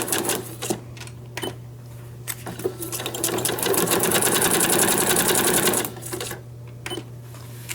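A sewing machine runs a long burst of rapid rhythmic stitching on paper book pages, straight and zigzag, between short clicks and brief starts, loud and close with a steady motor hum beneath.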